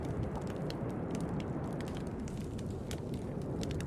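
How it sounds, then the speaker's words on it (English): Underwater ambience over a dead coral reef, a dense, steady low rumbling wash with scattered faint clicks and crackles running throughout, no voices. "This is the sound of dead coral."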